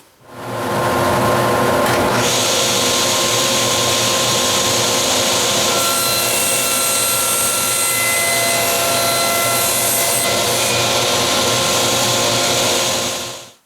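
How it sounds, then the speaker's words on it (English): A table saw rips 1/4 inch MDF into 1 inch strips: a loud, sustained motor whine spins up, holds steady under a rougher cutting roar through the middle, then winds down at the end, with no voices. "you want to rip a bunch of 1 inch strips from this 1/4 inch MDF"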